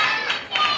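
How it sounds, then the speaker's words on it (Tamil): Audience applause for a performer at a children's ministry puppet show, a dense burst of many hands clapping together, fairly close and steady, with a couple of louder swells and no talk over it. "எல்லாரும் அண்ணாக்கு ஒரு கைத்தட்டு கொடுங்க பார்க்கலாம்."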